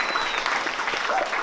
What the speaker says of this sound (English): So clap for that.